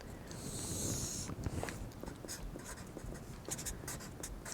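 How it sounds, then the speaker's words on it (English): A pen scratches out a label on a paper sewing pattern in a quiet room, with close, steady writing strokes and small taps, faint and dry with no voices. "And I always just label my patterns so I know exactly what I have later."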